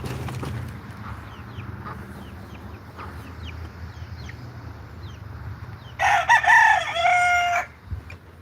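Chickens crow loudly in a burst near the end, with harmonic rooster calls over a steady low background rumble, after quieter ambient scraps and faint distant calls.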